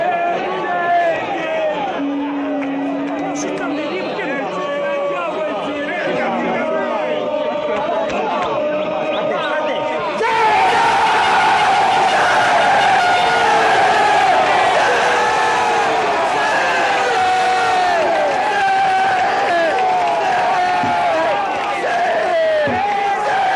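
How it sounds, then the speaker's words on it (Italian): Large crowd of Foggia football supporters, about 800 in the away section, chanting together in a loud sustained chorus, swelling fuller and brighter partway through amid continuous cheering and crowd noise. "cantano in coro dei tifosi foggiani, 800 solo nel settore riservato agli ospiti"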